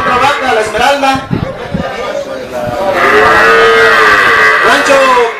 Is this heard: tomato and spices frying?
no